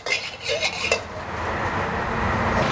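Cooking oil poured into a pan for vegetarian stir-fried soy sauce noodles, opening with a few clinks and scrapes of utensils on the pan before a steady, hissing sizzle builds and holds, close and fairly loud.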